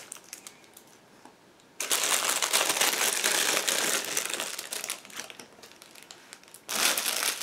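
Close, loud crinkling of a plastic bag being opened, with several seconds of continuous rustling and a brief pause before more handling.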